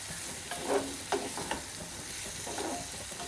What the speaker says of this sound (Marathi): आता यामध्ये आपण साखर घालूया आणि पुन्हा मिक्स करून घेऊया